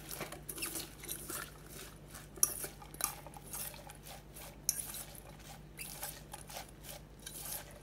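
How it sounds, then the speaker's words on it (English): Lime, pineapple juice, chopped cilantro and salt are stirred together in a bowl, giving a soft, close clatter and scraping of a utensil with light pattering clicks, faint and without any voices. "Let me stir that up."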